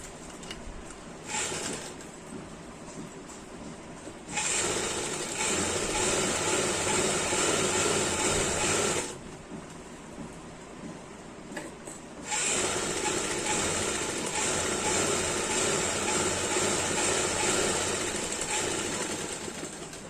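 A sewing machine stitches the side seam of an umbrella frock in two long, steady whirring runs, with short pauses between bursts; close and fairly loud, with no talking.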